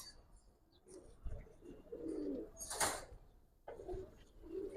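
Giribaz pigeons from a palla-line loft cooing softly in short low bursts, with a brief rustle or flutter midway and faint background noise around them.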